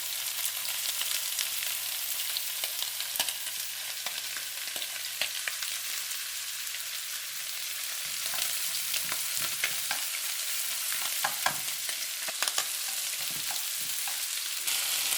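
Ginger and garlic sizzle steadily in hot oil for a pork curry. The hiss is constant and close, with scattered crackles and pops that grow busier in the second half.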